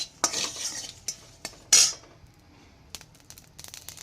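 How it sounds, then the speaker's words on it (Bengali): Whole coriander seeds stirred in a pan with a utensil, a series of sharp, close scraping clicks and brief rattles with quiet gaps between them and no talk. "এগুলোকে একটু নাড়িয়ে চাড়িয়ে নেব, একটু সুন্দর করে নাড়িয়ে নিয়ে"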